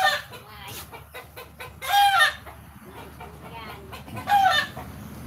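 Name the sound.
hen clucking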